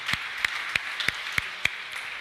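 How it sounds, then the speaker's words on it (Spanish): In a church, a congregation applauds, though the sound comes through as a sparse, evenly spaced series of single sharp claps, about seven over two seconds, fairly close and moderately loud. "Y denle el aplauso al verbo, a Jesucristo, nuestro Salvador."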